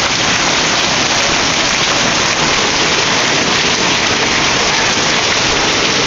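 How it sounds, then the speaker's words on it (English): Heavy spring rain pours down in Moses Lake in a dense, constant roar, loud and close, with no letup and no voices. "It's only been raining for like 5 minutes."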